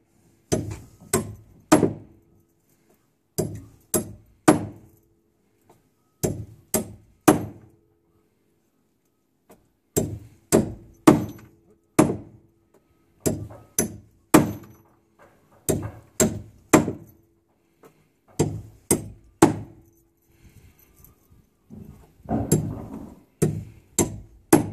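Titanium T-bone tent stakes being hammered into the ground, sharp metallic strikes in quick bursts of two to four blows separated by pauses, close and loud with no talking.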